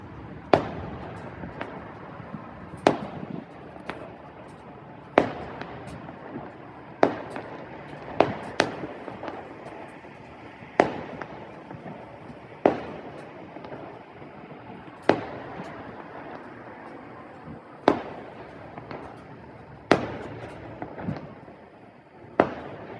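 Canada Day fireworks going off at a distance: a long series of sharp cracks and pops, irregularly spaced every second or two, each with a short echoing tail over a faint background hiss.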